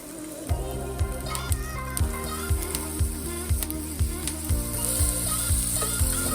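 Slices frying in hot oil with thyme for a turkey burger, a steady close crackling sizzle with light rhythmic taps and stirring, alone without talk.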